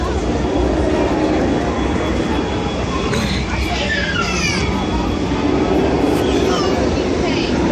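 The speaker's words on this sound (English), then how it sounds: "This train is pulled by an authentic steam engine born in 1901." Six Flags Over Texas railroad train pulled by a 1901 steam engine rumbles steadily at an amusement park, a continuous rolling drone with faint squeals and clanks, while people talk over it throughout.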